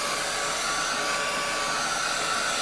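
A hot air heat tool dries a mixed media art background, giving a steady, loud, close whirring blow of air that runs unbroken throughout with no talking.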